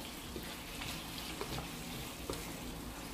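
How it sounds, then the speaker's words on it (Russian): Peppers fry in a sweet sauce with a continuous, dense sizzle and crackle, close by, with occasional light stirring taps and no talk. "опять же обжариваем 2-3 минутки в соусе"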